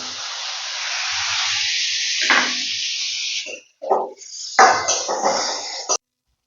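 Hot water poured into a pan of Maggi noodles with vegetables, a loud steady hiss and sizzle for a few seconds, then scattered splashes and bursts before stopping abruptly.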